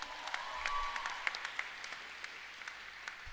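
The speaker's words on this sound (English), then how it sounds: "Could we have now a loud round of applause for Niket Surapaneni?" Audience applause at a school graduation ceremony in Bangalore, India, a steady patter of many hands clapping at moderate volume, continuing evenly throughout.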